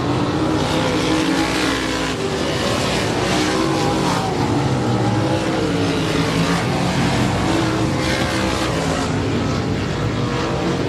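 Race cars circle the Big O Speedway oval, their engines roaring continuously and loudly as several cars pass close by in a dense, unbroken drone with no voices.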